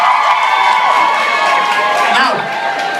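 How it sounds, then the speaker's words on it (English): A comedy club audience roars with cheering, whoops and applause, a loud, dense crowd sound that holds steady before easing slightly near the end. "give yourself a round of applause"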